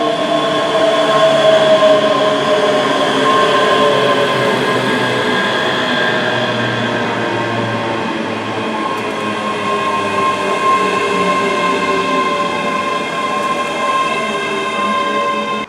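A ScotRail train bound for Edinburgh Waverley passes through a station, its motor whine and tonal hum holding loud and steady throughout.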